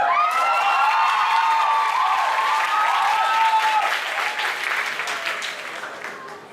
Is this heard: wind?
no